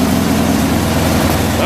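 A Craftsman 11.0/31 snowblower engine runs steadily with its auger turning, a loud continuous low rumbling drone heard up close.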